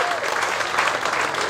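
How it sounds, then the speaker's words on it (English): Brief burst of audience applause at a community event honoring elderly players, dense steady clapping from a crowd heard close and continuous throughout. "Give them a round of applause."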